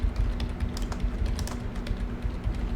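Fingers tap quickly on a computer keyboard close by, in an irregular run of light clicks over a low steady hum.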